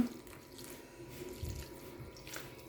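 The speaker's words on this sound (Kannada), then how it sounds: "ಸ್ವಲ್ಪ ಸ್ವಲ್ಪನೇ ನೀರು ಹಾಕಿ ಕಲಿಸ್ಕೊಳ್ಳುವ" Water poured little by little into rice flour dough runs and splashes faintly in short trickles, with quiet drips and soft background noise, no voices.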